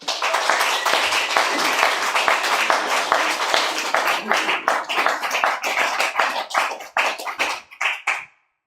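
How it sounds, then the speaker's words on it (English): A crowd applauds with dense, sustained clapping that thins into scattered claps and fades out near the end. "please a round of applause for Joseph Rios"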